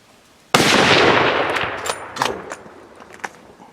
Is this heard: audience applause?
no